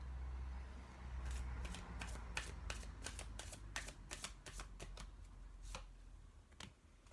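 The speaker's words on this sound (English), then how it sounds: "I'm just doing some Romance Angel Oracle cards." Romance Angel oracle cards being shuffled, heard as a quiet, close series of soft, irregular snapping clicks over a low steady hum.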